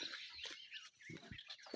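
Busy calls, clucks and chirps from several chickens close by, overlapping in short bursts with no talking.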